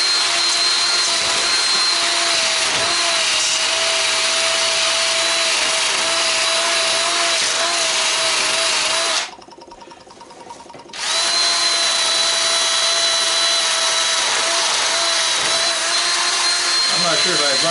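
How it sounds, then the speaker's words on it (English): Wire wheel spun on a power drill, scrubbing burnt copper windings of a large scrapped electric motor; a loud continuous whine and abrasive rasp that stops briefly midway, then resumes just as steadily. "Put a little wire wheel on your drill."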